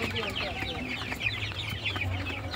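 One-month-old broiler chickens in a poultry farm shed at dusk keep up a dense, continuous chorus of clucks and peeps, close and steady throughout.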